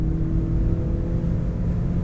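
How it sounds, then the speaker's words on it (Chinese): Mercedes-Benz E-Class W214 accelerating in hybrid mode on a highway in Malaysia, a steady, smooth and fairly quiet low engine and road hum from inside the cabin, with no voices. "你看我们现在回到它的 Hybrid Mode， right， 加速。 很顺，"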